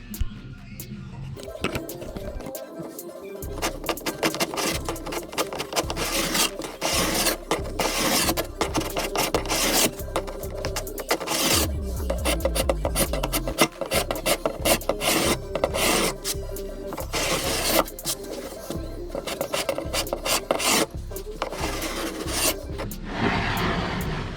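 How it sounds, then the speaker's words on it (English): Back of a mortise chisel scraping old stain off a weathered cedar door, a steady run of close, dry rasping strokes that continues almost without pause. "I can actually run it through here on its backside, and it actually scratches out real nice."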